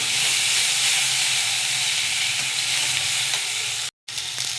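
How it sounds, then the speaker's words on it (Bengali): Onion and tomato frying in oil, stirred in a pan for a Bengali fish curry: a steady, close, loud sizzle with faint stirring scrapes, no voices, and a brief dropout near the end. "তেল, পেঁয়াজ, টমেটোটাকে একটু কষিয়ে নেব।"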